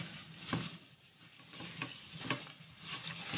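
Pork ribs tossed with dry chili in a pan, giving a soft, steady sizzle with a few scraping stirs of a spatula, close and fairly quiet.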